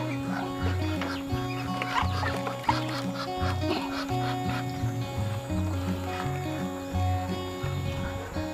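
Muscovy ducks crowd around a trough of molasses and E4 water mixture on a farm, their soft quacks and hisses mixing with steady low drinking and splashing noises that carry on throughout.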